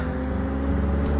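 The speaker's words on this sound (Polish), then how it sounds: "auto jedzie." A car drives along a quiet mountain road near Przegibek pass in Poland's Beskid Mały range, its engine a brief, steady, fairly close rumble.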